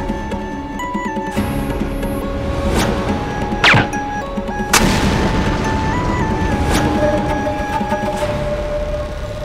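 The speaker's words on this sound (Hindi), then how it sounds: "ये पटाखा किसने फोड़ा?" Firecrackers burst in a home courtyard: several sharp, loud bangs at irregular intervals over a background of music and ambient noise, with no speech.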